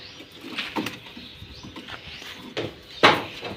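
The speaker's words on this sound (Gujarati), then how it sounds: "આ કબૂતર છે," Soft pigeon coos come in a few short bursts at close range amid a low rustling background.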